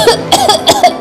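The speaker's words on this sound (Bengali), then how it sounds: "আমার খুব জোরে কাশি উঠল।" A loud, close human cough comes in several sharp bursts in quick succession, each a harsh, throaty explosion, heard alone without speech.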